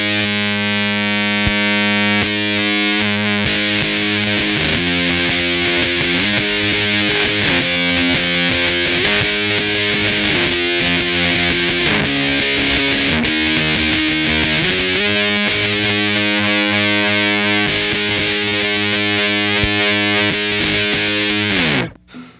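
A Boss TB-2w Tone Bender guitar pedal switched to 9 volts, a loud, full fuzz-distorted electric guitar riff played continuously before ending on a held chord that cuts off.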